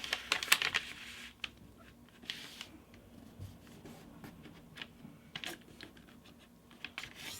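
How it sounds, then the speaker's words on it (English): Paper is folded and creased for an origami baby dragon, producing close, faint crinkles and sharp little taps and rustles in irregular bursts against a quiet room. "So we're going to fold this edge to this crease."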